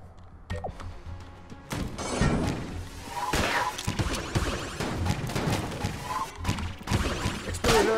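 Repeated explosions in the video game Enter the Gungeon, a dense run of loud, crashing blasts and thuds that pile up over eight seconds with almost no gaps.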